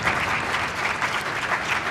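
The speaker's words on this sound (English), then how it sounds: "Let's give him a round of applause for those thoughtful comments" Applause from an audience at a question-and-answer session, steady and fairly loud, filling the whole two seconds without any voice over it.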